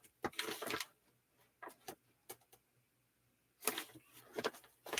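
A sewing machine stitches bag handles in short bursts: a quick run, a few brief stitches and pauses, then another longer rapid run, close and clear in a quiet room.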